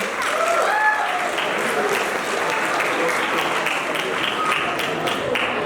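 An audience applauds students at a stage performance steadily, a dense wash of clapping that holds at an even, fairly loud level throughout with no pauses.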